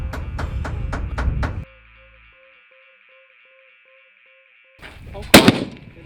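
Rifles fire at a long-range shooting event with targets out past 1,000 yards: a quick series of loud, evenly spaced reports, then quiet with a steady tone, and one more sharp blast near the end.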